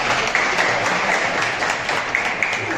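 An audience claps loudly for students at a career guidance session, a dense continuous wash of applause filling the short moment without pause.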